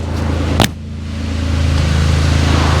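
A salvage-auction car whose battery had been dead idles close to the exhaust, with a sharp knock near the start; the engine then swells into a steady, louder rev that holds to the end.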